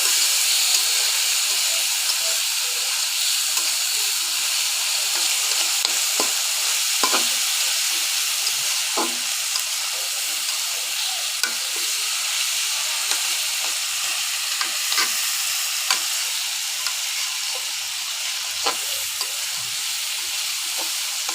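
Masoor dal with salt and ginger-garlic paste fries in a pan with a steady, loud hiss of oil, broken by occasional crackles and spoon scrapes, close up and unbroken for the whole stretch.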